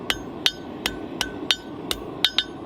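Steady hammer blows drawing a taper on a small forged iron fence piece, about nine sharp ringing strikes at a regular pace, close and distinct with no talk.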